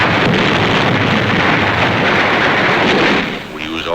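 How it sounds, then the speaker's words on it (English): World War II combat on Tarawa with hand grenade explosions as Marines attack: continuous loud, dense blasting and rumbling battle noise filling the whole stretch, easing briefly near the end. "Hand grenades."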